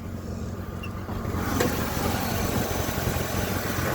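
Pontiac Grand Prix engine pulling off the line from a stop with a gearing that leaves it hesitant and sluggish, a low steady rumble that swells slightly as it moves off, close and fairly loud with no talking.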